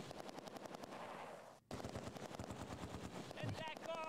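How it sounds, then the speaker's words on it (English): An MG42 machine gun in the video game Close Combat 2 fires long, rapid, continuous bursts, loud and dense, with a brief break before firing resumes amid other battle noise. "Oh, MG42 is here."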